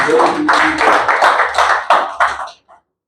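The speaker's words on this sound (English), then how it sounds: "Can we give them a big applause?" Applause from a small workshop audience, close, loud clapping in uneven bursts that thin out and stop after about two and a half seconds, leaving silence.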